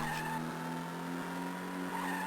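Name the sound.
car skidding in a handbrake turn, Stuntman GBA video game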